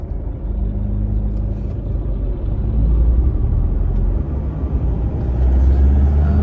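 A car pulling away from a green light on Thai highway 2116 near Phon Thong, Roi Et, a loud close engine and road rumble that swells as the car gathers speed.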